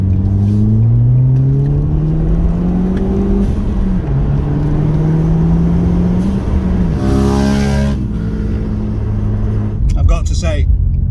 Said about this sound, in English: I've got to say that does go a lot better than I was expecting. Having a turbocharged car does give you that kind of excitement